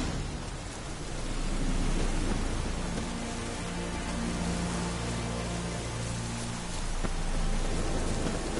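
Steady rain hisses continuously in the video game The Witcher 3, with a low rumbling undertone and no voices.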